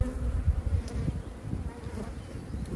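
Dense, steady buzzing of honeybees inside an opened hive during a colony inspection, a continuous low drone that holds close and even throughout with no voices.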